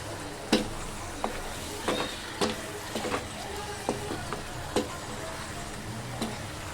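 Eel fish frying in a pan for a spicy bhuna, a low sizzle under repeated sharp scrapes and knocks of a spatula stirring the pieces, close and fairly quiet.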